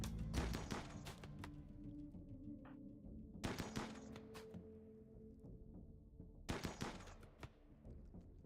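Automatic gunfire bursts in RimWorld, a colony-survival video game, with several rapid volleys separated by pauses, crisp and fairly loud against a quiet background.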